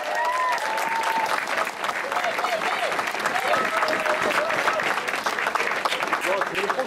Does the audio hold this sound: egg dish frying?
no